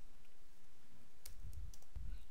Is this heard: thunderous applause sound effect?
no